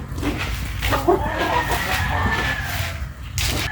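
Chickens cluck steadily and close by, with overlapping hen calls and a drawn-out squawk over a constant low background hum.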